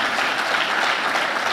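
Church congregation applauding during a sermon, a steady dense wash of clapping that fills the whole moment at close range.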